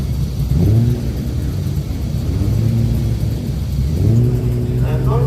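A Porsche 944 race car pulls away from a sprint start line, its engine note climbing and falling through revs as it accelerates, with a second rise near the end, heard under steady commentary.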